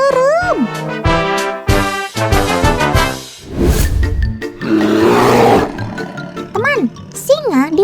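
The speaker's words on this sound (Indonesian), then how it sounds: "singa dipercaya memiliki raungan yang paling keras di antara kucing besar lainnya" A lion roars loudly in deep, rumbling bursts, with other voices and wavering vocal sounds around it.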